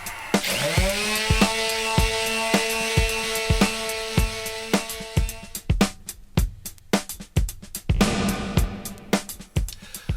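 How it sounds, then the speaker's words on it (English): A power tool whines steadily with a humming motor tone, broken by repeated sharp knocks and scraping bursts as it sands a drum shell. "Still got a lot more sanding to do here, better get back to it."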